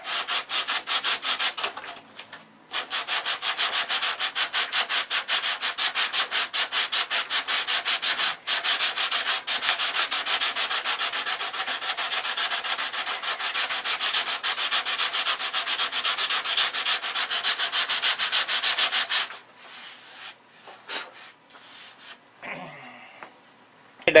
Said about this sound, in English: But we're going to block sand this flat.